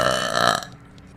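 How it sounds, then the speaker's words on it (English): A single loud, voiced burp from a VTuber, lasting about half a second close to the mic and then cutting off abruptly. "burp"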